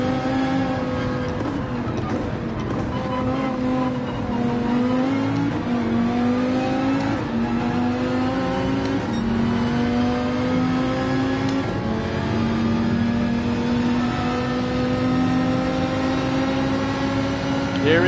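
A Viper race car engine in the video game Gran Turismo 7 holds a loud, steady drone whose pitch climbs and settles as the car runs down the track, sustained and close throughout.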